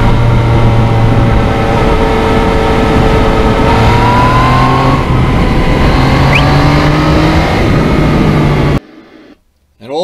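A 2020 Yamaha MT-09 crossplane motorcycle revs and pulls hard while riding, its engine note rising and falling through several gear changes, loud and close with wind rush, before cutting off near the end.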